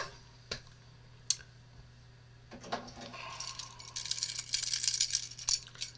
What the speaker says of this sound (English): Jangling Keys.